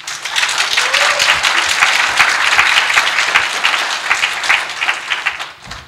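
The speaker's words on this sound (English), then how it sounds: "Give a round of applause, please." A convention audience at Texas Comic Con 2014 gives sustained, dense applause. Many hands clap steadily throughout, with a few faint voices mixed in, before the clapping tapers off at the end.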